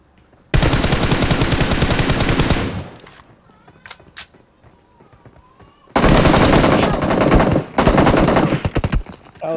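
Bursts of automatic gunfire in the mobile battle-royale game PUBG Mobile: a long loud rapid-fire burst, a quieter gap with scattered shots, then another sustained volley with brief breaks.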